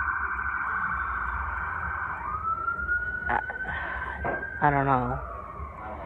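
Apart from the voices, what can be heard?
ambulance siren passing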